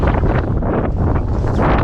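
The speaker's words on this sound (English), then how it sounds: "Really windy, visibility, it's raining, it's very blustery" Strong, blustery wind buffets the microphone on an exposed stretch of the Scottish coast along the NC500 in rain, a steady loud roar that hardly lets up.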